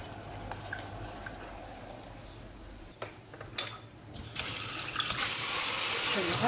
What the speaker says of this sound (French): Je le rince avec de l'eau froide.